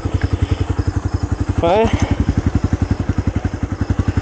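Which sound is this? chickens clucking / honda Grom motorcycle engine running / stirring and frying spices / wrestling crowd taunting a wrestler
honda Grom motorcycle engine running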